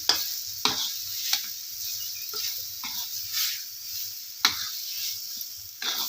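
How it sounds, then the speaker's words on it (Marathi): Besan pithla being stirred and sautéed in a pan: a quiet low sizzle broken by sharp scraping strokes of a spatula at irregular intervals, close by with no talking. "सतत हलवत राहायचं म्हणजे जसं जसं शिजल ना तसं तसं हे बेसन सुट्ट होत जातं"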